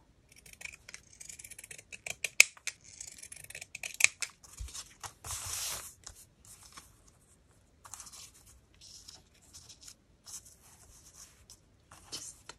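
Scissors snip through sewing pattern paper in a quick run of crisp cuts, with a few soft rustles and crinkles of paper in between and quieter snips afterward. Close and fairly faint, with no speech.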